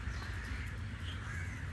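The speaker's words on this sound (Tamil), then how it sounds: "பறவைகள் வந்து சும்மா லட்சக்கணக்கான பறவைகள்." Crows and other birds calling over Negombo Lagoon in Sri Lanka, a dense, continuous chorus of caws and chatter at moderate distance with steady outdoor background noise and no talking.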